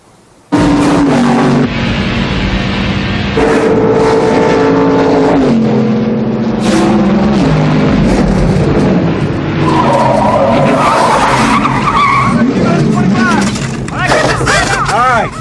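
A race car runs laps, its engine droning and shifting pitch as it accelerates, with tires squealing through the turns. The sound is loud and continuous, and people talk over it.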